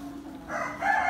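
A young rooster, seven months old, crows once in a henhouse with hens; the call is close and fairly loud, rising in two strained phrases.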